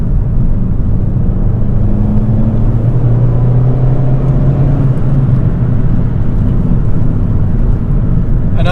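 Cabin view of a Ford Fiesta ST with a custom cat-back exhaust under way, a loud continuous low engine and exhaust drone with road rumble, rising and falling slightly in pitch with no voices.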